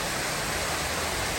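Steady broadband roar of a waterfall along the Falls Trail at Ricketts Glen State Park, continuous and fairly close, with no voices over it.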